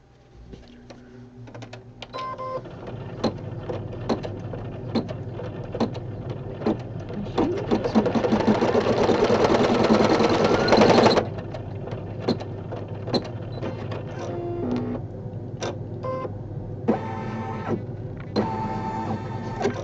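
An embroidery machine runs a placement stitch on fabric for a Valentine hug rug, a steady close mechanical hum under rapid ticking needle strikes, with a louder dense burst midway and sparse clicks after.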